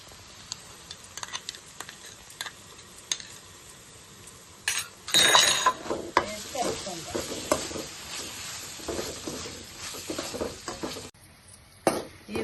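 Green and red chilli sauces with tomato sauce being stirred in a pan for pasta, a spoon scraping and clinking against the metal over a steady sizzle, the stirring growing busier and louder partway through before easing off.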